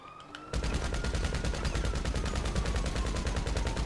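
Rapid automatic gunfire in GTA 5 Online starts abruptly after a quiet moment, then hammers on as an even, loud, close burst of closely spaced shots.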